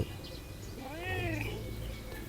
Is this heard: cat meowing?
yes